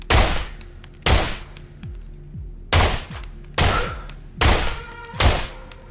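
Gunshots ring out in the survival game SCUM, five or six sharp loud reports spaced roughly a second apart, each with a bright crack and a short decaying tail, no talking over them.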